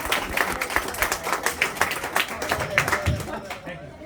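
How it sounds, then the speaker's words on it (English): A comedy club audience claps in a dense, steady burst of applause, loud and close, with a voice heard over the clapping. "Nobody clap like that. Clap!"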